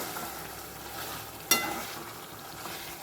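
Mochai bean gravy bubbling in a covered pot, a steady soft hiss and simmer with one sharp metallic clink partway through, fairly quiet and without voices.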